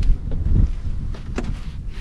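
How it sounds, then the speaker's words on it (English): Wind gusting outside a van, a low buffeting rumble against the microphone with a few faint knocks and rustles over two seconds. "Sorry if you can hear the wind,"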